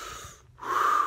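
A deep, forceful breath taken as part of a breathing exercise, with a long airy exhale fading to a brief silence before a strong, rushing inhale, close and loud.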